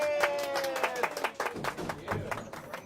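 Riders applauding at the end of the Red Car Trolley ride at Disneyland, a burst of scattered hand claps from a small nearby crowd lasting a few seconds, with voices mixed in.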